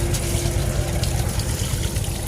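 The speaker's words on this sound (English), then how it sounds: "So go ahead, hose out the drips." Water from a garden hose sprays into a bin to rinse it out, a steady, close rushing and splashing wash with a low hum beneath and no speech.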